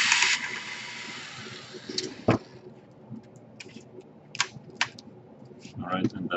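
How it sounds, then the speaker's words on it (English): Small screws are worked loose inside an opened Dell Latitude E5410 laptop, giving sparse, close clicks and ticks of a screwdriver, with a louder snap partway through, against a quiet background. "So we unscrew the screw."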